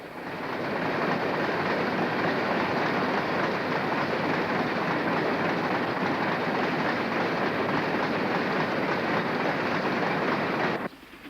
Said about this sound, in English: 44809 of Newton Heath heads south with an evening van train to Manchester